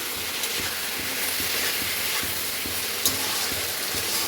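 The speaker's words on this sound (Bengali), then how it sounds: "এগুলোকে ভালো করে নাড়িয়ে চাড়িয়ে মিশিয়ে নিলাম" Spiced drumstick curry fries in a pan with a steady, loud sizzle and hiss, while a spoon stirs and scrapes in soft repeated strokes underneath.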